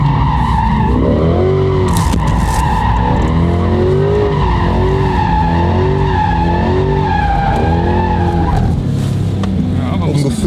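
Corvette C8 in first gear spinning its tires, with loud sustained engine revving and squealing rubber that rises and falls in repeated sweeps over about ten seconds, continuous and close.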